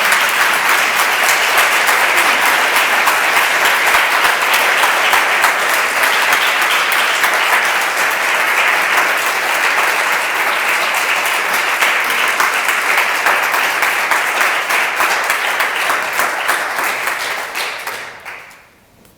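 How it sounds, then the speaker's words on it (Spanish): An audience at a corporate women's event applauds loudly and steadily for nearly twenty seconds, dense rapid clapping that fades out quickly at the end. "Creo que merece un aplauso de los que estamos aquí."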